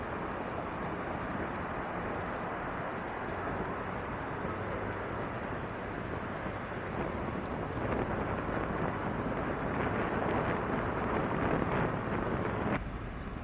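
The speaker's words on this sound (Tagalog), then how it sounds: "Malamig-lamig ang hampas ng hampas ng hangin ngayon" Steady, loud cold wind roars over the microphone during a ride on EDSA, for the whole stretch, with broadband rumble swelling slightly in gusts toward the end.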